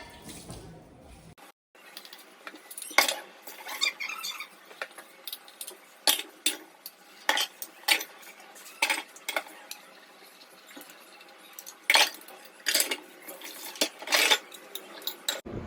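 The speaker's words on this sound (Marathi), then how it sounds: "तोपर्यंत मी भांडी घासून घेते आपण" Dishes being scrubbed clink and scrape against each other in irregular bursts while water splashes lightly, close and moderately loud, with no talking.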